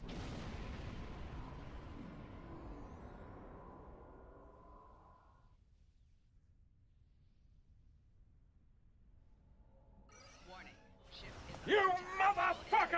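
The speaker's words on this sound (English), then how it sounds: "I'm getting too close to the warp core explosions." A warp core explosion in the space game Star Trek Online, a single deep boom that decays into a long fading rumble, followed by quieter game sounds and a burst of voice near the end.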